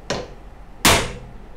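A hammer strikes a Titleist wedge head while stamping it, two sharp metallic impacts about three-quarters of a second apart, the second louder, each ringing briefly before fading.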